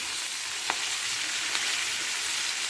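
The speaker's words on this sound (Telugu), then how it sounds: "ఆనియన్స్ వేగిన తర్వాత చుక్కకూర, పాలకూర" Spinach and sorrel leaves fry in a pan on top of sautéed onions. A soft, even sizzle is broken by a couple of tiny clicks, with no voices.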